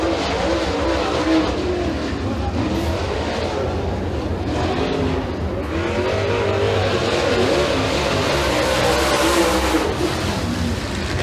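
Super late model race car on a qualifying lap at Eriez Speedway, engine roaring steadily at full throttle throughout, loud and continuous with no talk.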